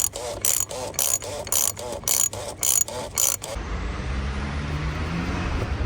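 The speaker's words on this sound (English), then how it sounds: "Tighten the filter housing to" Ratchet tightening the filter housing on a Ford Fiesta 1.6 TDCi, a run of about seven crisp, evenly spaced clicking bursts close up, followed by a quieter low rumble.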